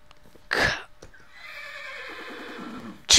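A horse in the Hexxit Minecraft game gives one loud, clear whinny that falls in pitch over about two seconds, preceded by a sharp burst and followed by another at the end, with no talk over it.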